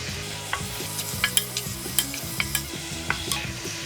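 Oyster sauce and salt mixture being stirred in a pan for fried instant noodles, with repeated scraping clicks of a utensil over a steady sizzle and faint background music, no talking.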